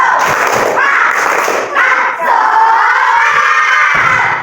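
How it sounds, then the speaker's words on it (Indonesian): A class of sixth-grade schoolchildren performs a rhythmic group clapping chant, loud and close, with young voices chanting together over thumping, patterned claps throughout. "Mari kita tepuk semangat."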